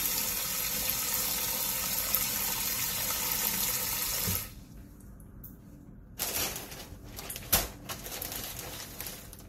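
Water pouring from a tap over salted radish for kimchi, a loud steady rush for about four seconds that then stops, followed by a few scattered clinks and wet handling sounds.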